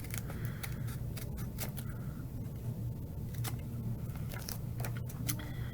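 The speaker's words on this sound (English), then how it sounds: "take your scissors and go ahead and cut out your snowman." Scissors snip through paper in a steady run of short, crisp cuts over a low background hum.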